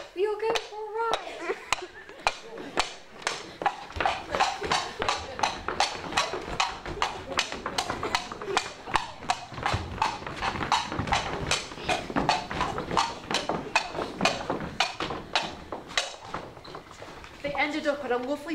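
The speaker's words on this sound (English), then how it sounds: "One day in May, Tehi Tegi took her horse for a walk, leading the besotted men on a slow chase." Hooves clip-clop in a steady, rapid rhythm during a stage play, distinct sharp knocks repeating for the whole stretch, with a voice speaking briefly at the start and end.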